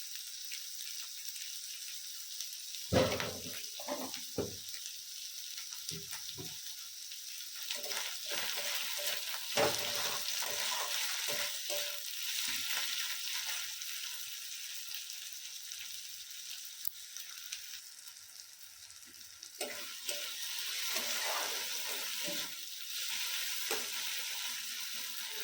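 Tomato with salt frying in a pan over ginger and cumin for a Bengali-style fish curry, a steady close sizzle with stirring scrapes and clatters, no talking.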